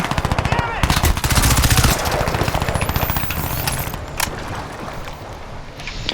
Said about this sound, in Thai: อยู่ๆก็ยิงเรานะฮะ